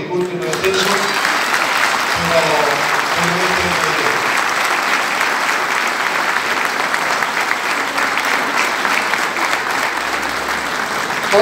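Sustained applause from an audience at a political team meeting, loud and steady throughout, with a few voices briefly audible at the start.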